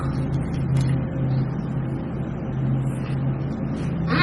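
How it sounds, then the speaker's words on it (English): A steady low mechanical drone of a lawnmower engine running outdoors at a moderate distance, constant throughout with no voices. "Sorry if you can hear the lawnmower outside."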